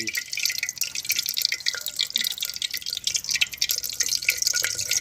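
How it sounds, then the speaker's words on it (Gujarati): Water poured into a pot to wash mogri (radish pods) for a village-style vegetable curry, heard up close as a continuous trickling, dripping splash with small clinks and no talking. "પાણી એડીને થોડું ધોઈ નાખવાનું"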